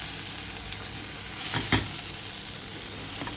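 Rice sizzles in hot fat in a pan while green beans are being cooked, a steady close crackle with a brief louder surge as it is stirred, no talking over it.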